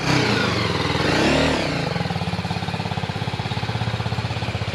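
A BMW G310 GS motorcycle's single-cylinder engine runs close by, revving briefly before settling into a steady, rapid thumping pulse that continues to the end.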